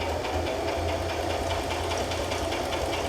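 A sewing machine runs steadily while stitching squares of a raggy quilt, a fast, even mechanical rattle of the needle that stays close and constant, with no talking.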